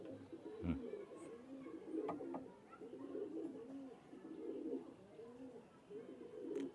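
Several Teddy and KTM pigeons coo softly in repeated throaty rolling calls, overlapping at a steady pace against a quiet background.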